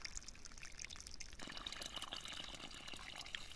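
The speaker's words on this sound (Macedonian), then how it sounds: "Водата веќе тече, се полеваат пиперките." Water flows steadily from an outdoor supply while pepper plants are being watered, a soft continuous rushing that stays faint and even throughout, with no voices.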